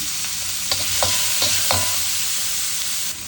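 Shallots, garlic and tomato sauté in a pan for an okra and eggplant curry, giving a loud, constant sizzle with a few sharp stirring clinks, and no talking.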